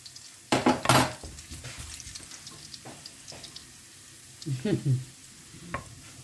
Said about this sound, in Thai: ผัดง่ายๆ กินง่ายๆ ผัดหมูใส่กระลำใส่หัวแครอท